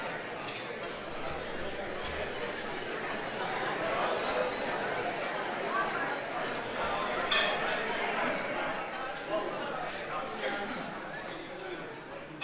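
Glasses clink sporadically during a toast at a hall of fame dinner, the light chinks mostly buried in steady crowd chatter and murmur.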